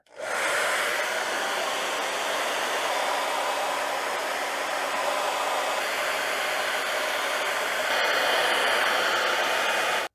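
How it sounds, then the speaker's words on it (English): A hair dryer blows steadily at close range while warming the steel of a Hornady Lock-N-Load AP reloading press, a loud, even whooshing hum starting abruptly and holding constant, briefly intensifying near the end. "So I'm going to do that with a hairdryer."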